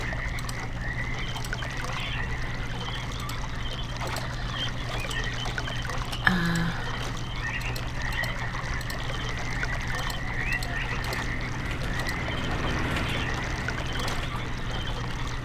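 Water flowing steadily in the Channelwood area of the Myst video game, a soft continuous trickling and pouring under a low ambient hum, faint and even, with one brief click midway.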